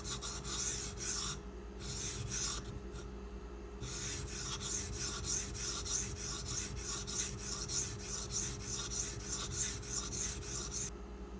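A Kershaw Launch 11 knife having its off-center factory bevel ground down during sharpening gives a close, steady rasping scrape in repeated strokes, with a few short pauses between passes.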